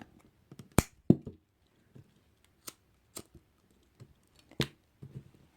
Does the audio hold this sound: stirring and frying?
no